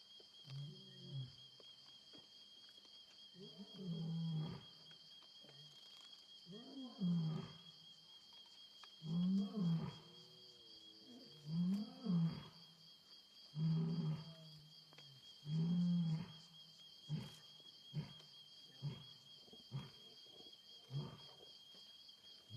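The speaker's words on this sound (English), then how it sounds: "If you could hear that female roaring, the one that got up and walked away a little bit, she was roaring for us" A lioness roars during a live safari drive, a long series of deep grunting roars rising and fading, with shorter grunts trailing off at the end, heard at a distance over steady insect buzz.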